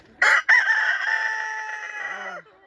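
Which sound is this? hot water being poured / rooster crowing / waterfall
rooster crowing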